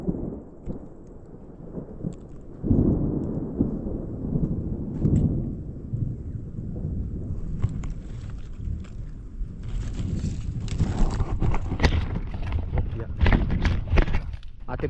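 Rain falls steadily outdoors over lanzones trees, a broad hissing wash that swells louder partway through, with scattered sharp patters and a person talking under it.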